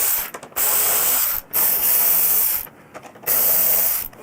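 A hand ratchet loosening Torx 25 bolts on a motorcycle windshield, giving several bursts of rapid close clicking separated by short pauses, with no voices.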